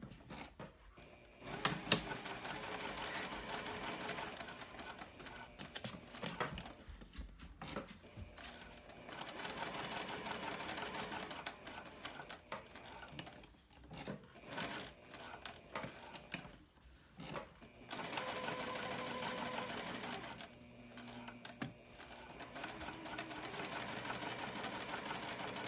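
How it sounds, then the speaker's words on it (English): A sewing machine top stitches around the edges of a mini backpack, running in a quiet, rapid mechanical whir that starts and stops in several bursts with short pauses between seams. "So just for looks, I'm going to top stitch around the edges of these."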